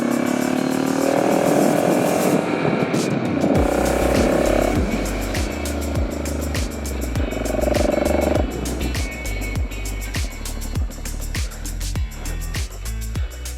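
A car climbs a hill in a low gear, its engine droning steadily with a pulsing, labouring rhythm close by, over a steady road rumble.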